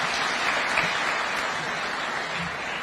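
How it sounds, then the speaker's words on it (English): Steady audience applause fills a State House hall during a Kenya Chamber of Commerce event, a dense even wash of clapping at constant loudness with no talk over it. "Another round of applause for him."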